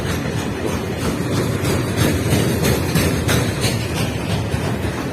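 A heavy train rumbles past nearby, wagons rattling with a rough, continuous roar and faint rhythmic clatter throughout.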